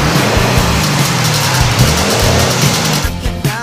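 An Audi S8 Stage 2 engine revs hard and loud on a dyno, rising in pitch through repeated surges during a top-speed run before easing off at the end.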